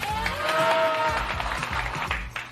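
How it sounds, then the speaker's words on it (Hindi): An audience applauds for Seonghun in a crowded setting, a steady rolling clapping that carries on under a faint tonal background. "सब लोग सियोंगहुन के लिए तालियां बजाएं"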